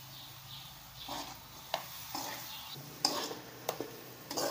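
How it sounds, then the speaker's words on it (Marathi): Masala being stirred and mixed in a pan while making potato patties, soft repeated scraping strokes and faint sizzling, with a few sharper clinks of a spoon against the pan. "2 मिनिटं चांगलं असं सगळा मसाला मिक्स करून घ्यायचा।"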